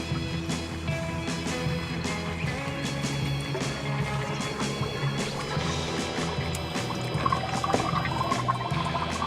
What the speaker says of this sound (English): Oh, it is still guggling away there.